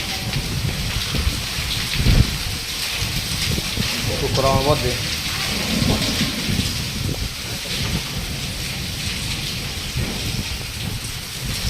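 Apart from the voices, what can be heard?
heavy rain and thunderstorm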